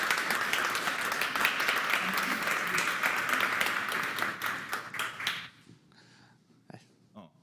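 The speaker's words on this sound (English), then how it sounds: "Let's give Lance a round of applause" Audience applause at a 1 Million Cups Sioux Falls startup presentation, dense sustained clapping from a room of people for about five seconds before cutting off abruptly into near quiet.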